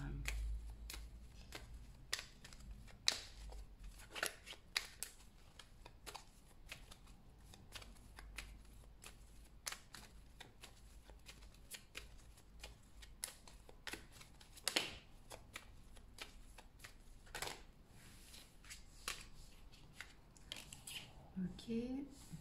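Tarot cards are shuffled steadily for a reading, a continuous run of soft riffling and snapping flicks with occasional louder slaps, close and quiet throughout, with faint speech in the background.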